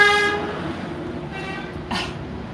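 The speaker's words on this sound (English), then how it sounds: "They're honking at people, they're honking at other cars" A box truck honks a short horn blast on a city street, loud and close at the very start, then fades into steady traffic rumble while a second, fainter toot comes near the end.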